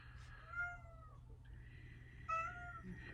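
A cat meows twice, close and fairly soft, with a short pause between the calls over a quiet low hum.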